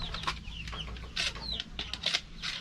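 Chickens in a small coop on a mini farm give soft, scattered clucks and short calls at close range over a low background hum, with no talk.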